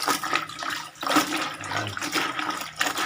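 Water runs from a tap in a home kitchen as a continuous, moderately quiet splashing flow with uneven surges.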